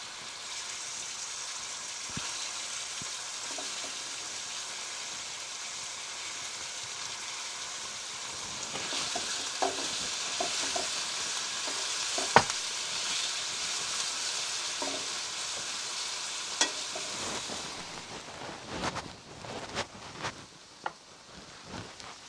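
Hakka noodles with chicken stir-frying in hot oil, a steady broad sizzle throughout with scattered clicks and scrapes of stirring growing busier toward the end, no talking.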